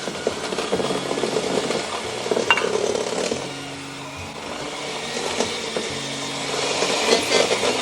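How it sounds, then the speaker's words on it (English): Dessert ingredients being stirred together with coconut sugar, a steady scraping and rubbing of a utensil against a bowl that runs continuously at close range, with no talking. "So we're gonna mix this with our coconut sugar."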